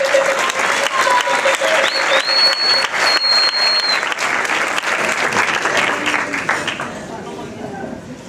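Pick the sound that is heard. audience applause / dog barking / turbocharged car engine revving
audience applause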